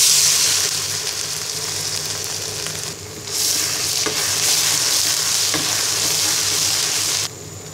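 Garlic paste and ground dried chilies frying in oil for a Bangladeshi chalta pickle, a loud continuous hiss that drops and swells as ingredients go in, with occasional spoon scrapes and no talking.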